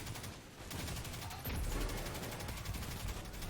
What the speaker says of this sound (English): Use the rest of my grenade launcher grenades.